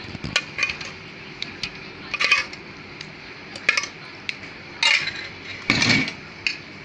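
A spoon scrapes and clinks against a pot while cooked cucumber is stirred with powder for a sweet dish, giving scattered metallic taps and short scrapes in bursts, with no talking.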